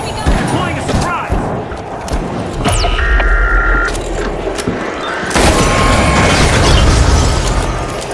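An explosive mine detonates in the shooter game The Finals, a heavy boom followed by mechanical clatter and rumbling blast noise, loud and close, under a game announcer's voice and other in-game effects.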